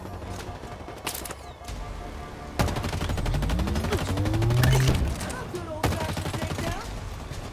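Rapid bursts of gunfire from Halo Infinite multiplayer, loud and close, with dense repeated shots and explosive impacts packed together and voices talking over the action.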